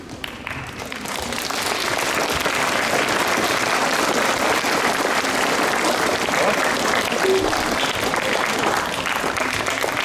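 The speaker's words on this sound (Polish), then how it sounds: "Wielkie, wielkie brawa" Sustained audience applause at a school nativity play in Istebna, a dense and steady wash of many hands clapping that swells in during the first seconds and then holds loud for the rest.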